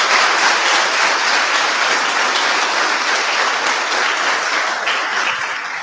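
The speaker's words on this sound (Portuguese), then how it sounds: "Aplauda o seu Deus, bem forte." Loud, sustained applause from a large crowd at a church celebration service, dense clapping that holds steady for several seconds and tapers slightly at the end.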